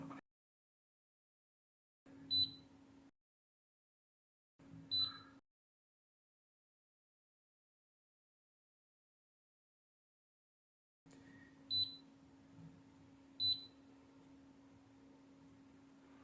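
A digital multimeter in diode mode tests a shorted DC rail in a Delta 24V power supply, giving several short buzzy beeps in separate bursts, with a longer stretch of tone near the end, in a quiet room.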